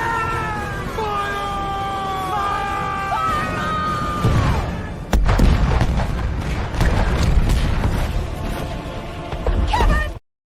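A cannon-fire sound effect on a basketball talk show: a deep booming blast follows a stretch of voices, then further heavy rumbling hits fade out before the clip cuts off.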